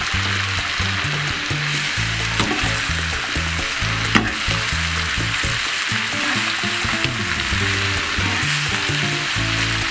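Mushrooms fry in a pan for a creamy mushroom sauce, giving a steady loud sizzle broken by repeated scraping and clattering as they are stirred, with occasional sharper knocks of the utensil against the pan.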